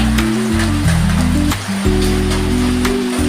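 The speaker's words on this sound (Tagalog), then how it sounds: "Malakas ang ulan dito" Steady heavy rain hisses loudly and without pause, with a low droning hum running underneath the downpour.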